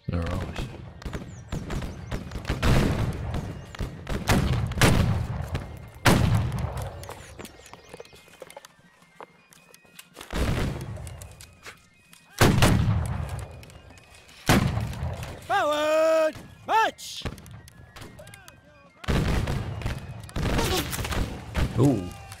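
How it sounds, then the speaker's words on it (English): Incoming gunfire in the Civil War-era video game Battle Cry of Freedom: several sharp, loud cracks and thumps strike at irregular intervals amid battlefield clatter, with a voice talking between the bursts. "Ooh, shots coming in."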